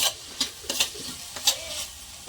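Momo filling frying in a pan with soy sauce, a steady sizzle broken by scraping stirs of a spatula, close by and without voices.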